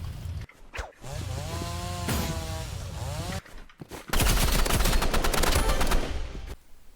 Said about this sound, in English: The third way is to use the chainsaw and chain slide cancels to get to the other side.